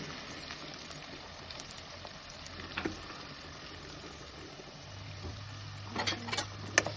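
Food roasting in a pan for homemade biryani, with salt and turmeric powder added, gives a steady low sizzle and fry throughout, with a few brief stirring scrapes and clinks near the end and no talk.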